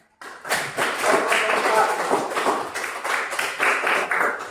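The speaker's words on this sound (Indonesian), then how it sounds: "Mari kita beri aplaus untuk kelompok 5" A small group in a teacher training session applauds group 5 after their presentation, with a sudden start and then a lively, uneven run of overlapping claps close by.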